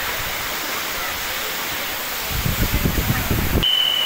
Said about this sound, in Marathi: वरून पाणी पडतंय, आजूबाजूला सगळी पब्लिक त्याचा आनंद घेते.